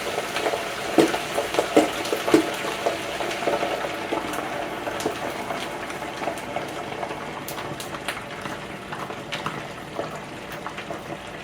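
Food lowered into a deep fryer of oil heated to 400 degrees bubbles and sizzles vigorously, a loud, steady, crackling hiss with small pops that gradually settles toward a quieter simmer.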